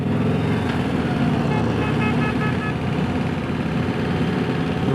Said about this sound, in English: Someone was beeping at us and I don't know why.